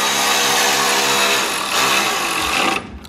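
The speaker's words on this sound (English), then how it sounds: "Pinch bolts getting tightened down." A power tool whines loudly and steadily for a few seconds, close and alone, as pinch bolts are run down on the front wheel of a carbon BMW M1000RR motorcycle fitted with Brembo brakes, then stops abruptly.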